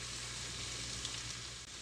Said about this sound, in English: See, it's bubbling nicely now.